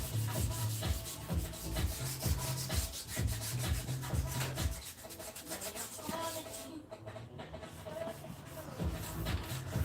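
Hand sanding to strip a layer of paint, with fingers working the sandpaper into a tight spot: continuous close, rhythmic scratchy rubbing strokes that keep going with only a brief lighter patch.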